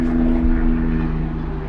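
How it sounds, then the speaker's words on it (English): A helicopter hovers low and close over a house, giving a loud, steady engine and rotor drone that runs unbroken and fills the whole moment with no voices. "Oh, there's a helicopter going overhead."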